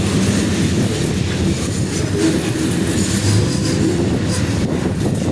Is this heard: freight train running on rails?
yes